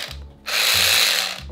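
A power drill whirs loudly in a steady burst, with short low mechanical hums before and after, in a workshop setting while preparing to carve a custom pumpkin.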